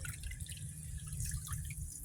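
Water drains and drips steadily from a gas water heater tank being flushed, a constant close splashing trickle with no voices.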